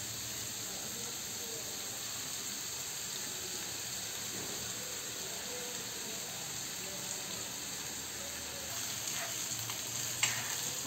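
Ginger garlic paste fries with onions in a pan as a steady, faint, even sizzle throughout, with a few soft clinks near the end.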